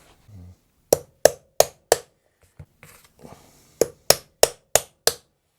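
Sharp metallic hammer strikes on a punch into the wood of a custom Telecaster guitar build: a quick run of four evenly spaced blows, a few quiet taps, then five more steady, close strikes.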